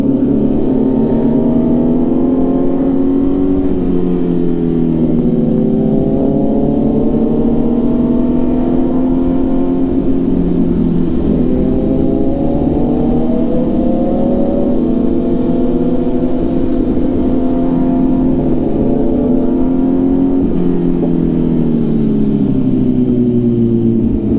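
A loud superbike exhaust, on a group ride with a ZX-10R, revs continuously, its pitch climbing and falling in repeated waves as the engine is throttled up and eased off.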